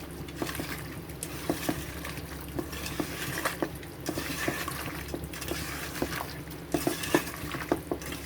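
Chicken pieces are mixed with spices by hand in a bowl for a chicken gravy curry, with soft, wet squelching and scraping in an irregular rhythm, close and quiet.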